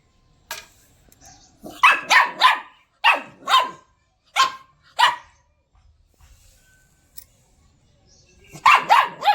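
A dog barks in short bursts, several quick barks in clusters with pauses between, fairly close and loud.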